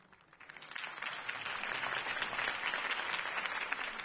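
Crowd applause in a Batman Telltale game scene, a steady wash of many hands clapping that swells in over the first second and holds at a moderate, fairly distant level to the end.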